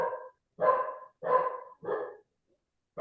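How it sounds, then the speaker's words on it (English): A dog barks at deer in a backyard, four times in a steady, evenly spaced rhythm, loud and close, with short silences between each bark and another starting at the end. "Apologies if everyone can hear my dog barking at the deer in the backyard."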